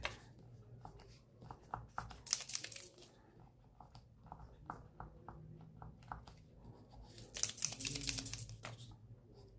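A small sheet of black paper is handled at a table, giving soft rustling and crinkling, tapping sounds with two louder crackly bursts, quiet and close.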